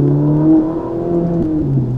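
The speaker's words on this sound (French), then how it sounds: "on réaccélère, tout droit" A Ferrari 458 Italia's 570 hp engine revs up hard nearby on a track, its pitch climbing and shifting through gears in a loud, droning roar.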